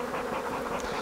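Honeybees buzz steadily at an open beehive colony during a beekeeping inspection, a dense, continuous drone of many insects close by, with no talking.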